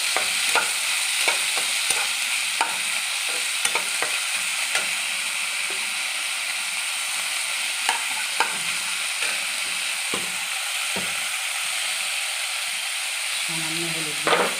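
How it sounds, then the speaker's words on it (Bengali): Bitter gourd dolma filling fries in a pan with a loud continuous sizzle, while a spatula scrapes and taps against the pan in irregular strokes throughout. "আর ভালো করে ভেজে লাল লাল করে নেব।"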